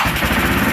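An old Yamaha Moto 4 ATV engine runs steadily after being started with a squirt of gas down the carburetor, a loud, close, rough and continuous mechanical drone.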